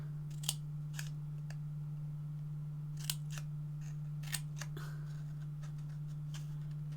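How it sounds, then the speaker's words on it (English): Scissors snipping paper and patterned cardstock while a notebook holder is crafted, a few faint, sparse crisp cuts spread apart over a steady low electrical hum, with no voices. "So you're going to snip up."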